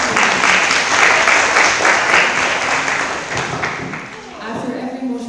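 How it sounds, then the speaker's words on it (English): Delegates at a veterinary students' congress general assembly in Denmark break into sustained applause after a motion passes, dense clapping from a large crowd filling the room before thinning out toward the end, with some voices mixed in. "after every motion that passes, you're allowed to clap"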